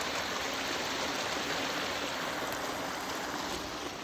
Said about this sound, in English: You see, it's just absolutely pouring out of there.